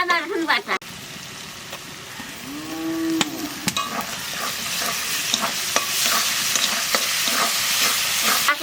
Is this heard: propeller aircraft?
no